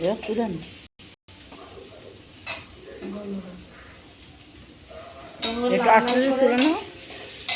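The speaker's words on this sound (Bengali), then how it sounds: "ভাজা হয়ে গেছে পেঁয়াজ, দেখছো লাল করে ভাজলে পেঁয়াজটা" Onions frying in a pan for a home-cooked dish, a soft sizzle with occasional stirring and scraping, broken by a short silence, then louder stirring and clatter as a voice talks over it.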